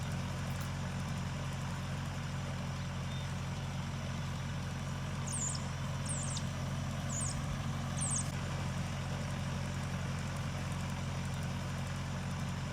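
A tractor pulling a Weed Badger Model 4000 attachment at about one mile per hour in a haskap field, heard as a faint, steady low engine drone with a few short bird chirps over it.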